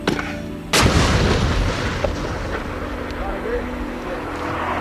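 British Marines fire artillery in combat against the Taliban: one loud close blast cracks out, followed by a long rumbling tail under low background noise.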